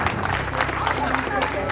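Crowd clapping at a Kannada Rajyotsava celebration, a dense continuous patter of hands that keeps up throughout, with a voice partly audible underneath.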